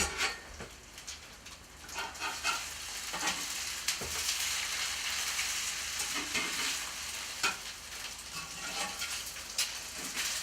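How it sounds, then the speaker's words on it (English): An egg in bread fries in a pan with a steady, close crackling sizzle that runs throughout, dotted with occasional pops and light scraping. "It's a nice sizzle sound."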